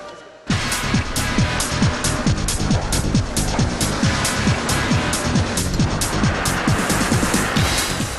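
Camel Trophy 1997 rally team vehicles roll slowly through a crowd of well-wishers leaving Ulaanbaatar, Mongolia, after rain; continuous engine and crowd noise begins abruptly and holds steady, with repeated clicking pulses throughout.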